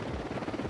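A helicopter in the video game Ghost Recon Wildlands gives a brief, faint rotor thrum with a steady pulsing beat, heard alone without talk.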